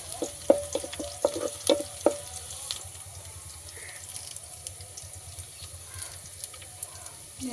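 Red onions sizzle softly in a pan for a Nellore-style fish curry, with a spoon clinking and stirring in a quick run of taps early on, then a quieter steady frying hiss.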